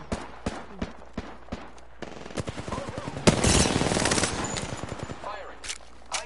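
SMG gunfire in Apex Legends, starting as scattered single shots that build into a dense automatic burst lasting about two seconds, followed by a few more spaced shots, all fairly loud and up close.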